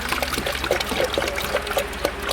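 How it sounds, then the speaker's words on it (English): Coolant trickles and splashes into the cooling system of a Holden VT 3.8 V6 with an overheating issue, a close, continuous bubbling pour with no voices. "Now as I add the coolant,"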